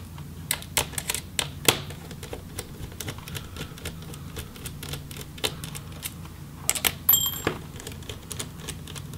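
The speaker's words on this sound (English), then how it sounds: "So we'll go ahead and remove these hinge screws and swivel that hinge up out of the way." Hinge screws come out of a Dell G3 3579 laptop, heard as sparse close ticks, taps and small metallic clicks from a screwdriver and parts, irregular and fairly quiet, with a brief bright clink near the end.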